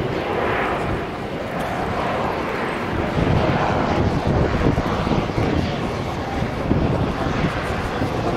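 Four Europrop TP400 turboprop engines of 11,000 shaft horsepower each on an Airbus A400M military transport make a loud, steady, broadband roar with a throbbing low rumble, sustained close by throughout.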